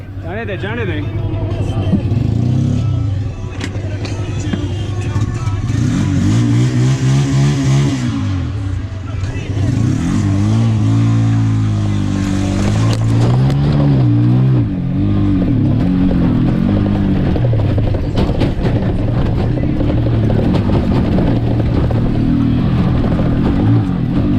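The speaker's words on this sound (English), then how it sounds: "driving a rickshaw in the north doesn't suck" An auto rickshaw engine drones loudly and steadily as it drives and climbs a broken, snowy mountain road to Babusar Top, with constant rattling and revving and voices talking over it.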